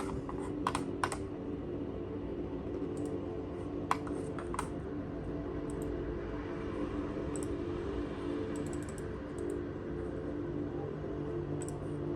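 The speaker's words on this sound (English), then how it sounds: "Let's type it in." Someone types on a computer keyboard, with scattered clusters of faint, crisp key clicks over a low steady background hum.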